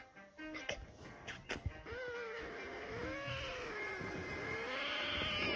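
A frightened cat's drawn-out wavering meow rises and falls for several seconds, faint and near, after a few soft knocks, against a steady low background drone.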